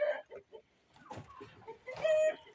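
Hens clucking near a coop at dusk, a few short irregular clucks and fowl calls close by, with a person talking softly among them.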